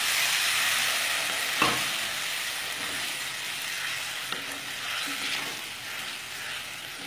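Potatoes with asafoetida cooking in a pan after a splash of water, a soft, steady sizzling hiss with a couple of sharp stirring scrapes, moderately quiet and close, no speech.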